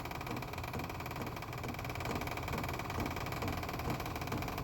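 A steady, low mechanical hum of an electric push-button pump filling a diesel heater tank runs unbroken throughout, fairly faint and close, with no talk over it.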